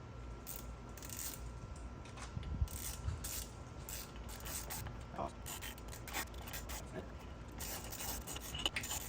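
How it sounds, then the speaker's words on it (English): Hand tools bolt an APR intake into a C8 Audi RS6, giving faint close metallic clicks, ratchet ticks and small clanks scattered irregularly over a quiet garage background. "got the other flanges on here and working on getting this bolted in."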